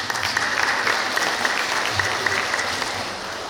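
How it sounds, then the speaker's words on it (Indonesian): Sustained audience applause at a graduation ceremony of SMP-SMA Hidayatullah Bontang, an Islamic boarding school: dense, steady clapping from a large crowd throughout, filling the room evenly without pauses. "Berikan aplaus dulu."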